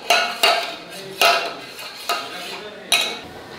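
A sugar mixture stirred in a bowl, five or six distinct scraping, clinking strokes at an uneven pace, close and fairly loud with no talking.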